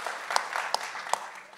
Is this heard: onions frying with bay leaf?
no